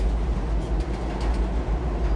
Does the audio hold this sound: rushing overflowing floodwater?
no